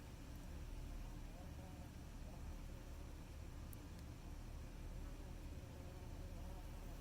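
Honey bees at a Flow Hive during honey extraction, a steady low buzzing drone that stays constant and fairly faint throughout, with no clear individual bee passes.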